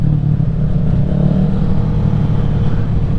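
A Kawasaki Ninja 650 motorcycle pulling hard in second gear from about 30 mph: loud, close, continuous engine roar with wind buffeting, no talking.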